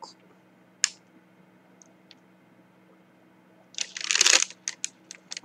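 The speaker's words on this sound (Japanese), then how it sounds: "開け口をへこみの位置まで折り返す。" A zipperless snack pouch is folded open at its notch, making a brief, close burst of plastic crinkling near the end that follows a few isolated clicks and light handling noises in an otherwise quiet room.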